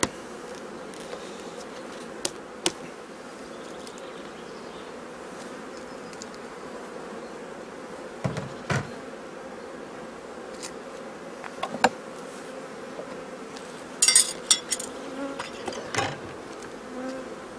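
Honey bees buzz steadily around an open hive during a spring inspection, a close, continuous drone broken by a few sharp clicks and knocks from frames being handled.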